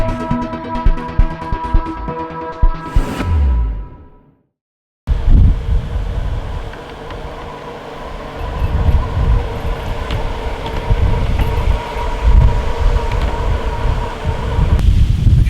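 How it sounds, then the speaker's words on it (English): Strong wind blowing outdoors buffets the microphone with a loud, rumbling, gusty roar. A fading ringing tone opens the passage, followed by a moment of silence before the wind noise takes over for the rest. "I apologise for the wind. It's really windy out here."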